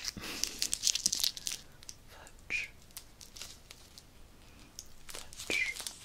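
A Quality Street chocolate's crinkly wrapper is unwrapped up close, with bursts of bright crackling and tearing that come and go over a quiet background.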